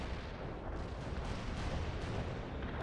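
A World in Conflict artillery barrage roars as a dense, continuous wall of distant booms and rumbling blasts that stays steady and heavy throughout.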